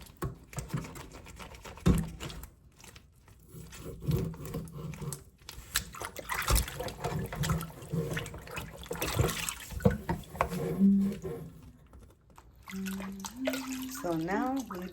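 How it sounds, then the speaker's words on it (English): Fish for a Honduran-style fry is rinsed by hand in clean water before seasoning, with close splashing, sloshing and dripping in irregular bursts under intermittent talking. "we just passing it through the clean water one more time before we season it"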